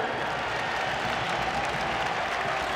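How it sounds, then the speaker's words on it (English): A basketball crowd in Pittsburgh gives a standing ovation, with steady, dense applause and crowd noise filling the whole stretch at a constant level. "A standing O from the crowd of Pittsburgh."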